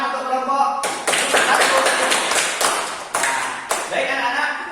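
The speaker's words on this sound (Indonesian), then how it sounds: "Tepuk tangan untuk kelompok" Classroom of children clapping for a student group, a dense burst of hand claps starting abruptly and continuing steadily at close range with brief dips, after a moment of speech.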